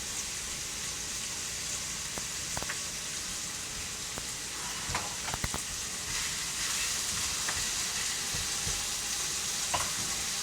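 Chopped red bell pepper and other ingredients sizzle in a frying pan with a steady, close hiss, broken by occasional stirring clicks and scrapes.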